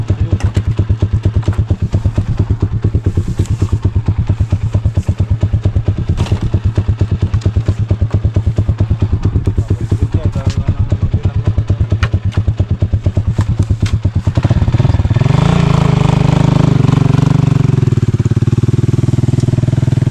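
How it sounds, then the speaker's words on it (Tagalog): An old motorcycle engine runs close by with a steady, loud, rapid thumping beat, its pitch and tone shifting near the end as the revs change. "Yang motor na yan kaedaran ni ano Van Helsing."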